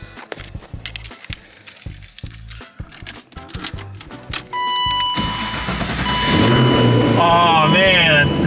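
An LS3 V8 engine swapped into a BMW E36 starts and settles into a loud, steady idle with a rising, rumbling drone, after clunks and shuffling around the car, with people talking nearby.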